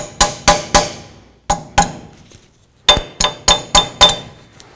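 Bending the tabs of a cotter pin on the front wheel hub of a 2003-09 Toyota 4Runner: roughly ten sharp, ringing metallic taps in three quick bursts, close and loud, with brief pauses between groups.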